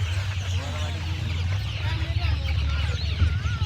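Country chickens and Sonali hens cluck and chatter continuously at a poultry farm, several birds close by over a steady low hum, with a person talking intermittently.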